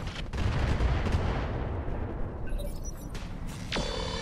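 Turret gunfire in the Roguetech mech game: a dense, sustained rumble of rapid shots and impacts that thins out midway, followed by a few sharper bursts near the end, with no talking.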